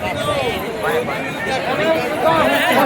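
Devotees crowd together during a temple town procession, their overlapping voices forming a close, busy murmur with several nearby people talking at once and the babble swelling slightly toward the end.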